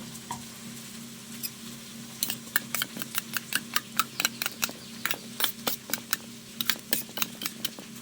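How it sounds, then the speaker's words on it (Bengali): Onion and capsicum fry in a pan, with a steady low sizzle under a run of quick, sharp scraping strokes of a spatula against the metal, close and fairly loud, and no talking. "পেঁয়াজের ক্যাপসিকামটা ভাজতে ভাজতে এর মধ্যে আমি স্বাদ মতো নুন দিয়ে দেবো।"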